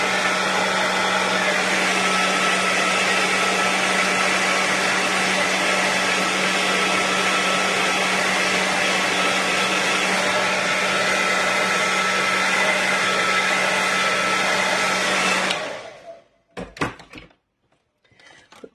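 Hair dryer blowing steadily to dry off food in a kitchen, a loud constant whir for about fifteen seconds before switching off, followed by a few soft clatters.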